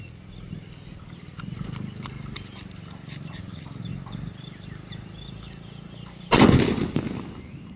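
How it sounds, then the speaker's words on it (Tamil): A quarter-kilo paper bomb firecracker bursts with a single loud, sharp blast during Diwali, preceded by quieter crackling and distant popping of other fireworks, the boom ringing out and fading over a second. "ஃபஸ்ட்டு இந்த 1/4 கிலோ பேப்பர் நம்ம வெடிக்கலாம்."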